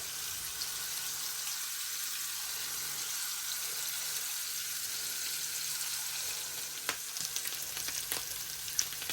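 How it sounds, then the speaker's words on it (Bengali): Small kachki fish frying in a pan until red on both sides give an even, continuous close sizzle, with a few light clicks near the end. "দুই পাশটাই আমি এরকম লাল করে ভেজে নিছি"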